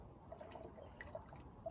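Water drips and trickles through a t-shirt filter into a Jetboil pot outdoors, a soft, faint run of small irregular drips.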